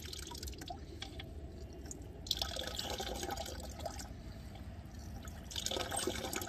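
Water runs through a Grayl Geopress purifier bottle, a quiet trickling and dripping flow with soft splashes that swell and fade over a faint background hiss.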